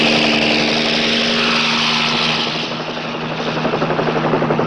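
A plane or helicopter engine drones loud and steady overhead, its propeller beat pulsing continuously and fading slightly midway before swelling again.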